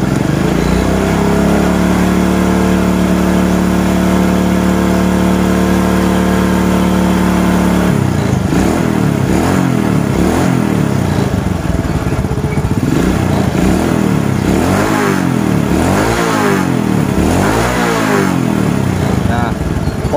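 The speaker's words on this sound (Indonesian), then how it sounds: "sekarang kita coba gas agak kenceng ya" A Honda Supra X 100 motorcycle engine idles close up, then is revved hard in repeated surging throttle bursts, loud throughout.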